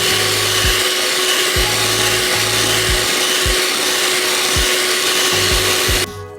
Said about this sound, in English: take a hand mixer and you want to blend everything until it's nice and smooth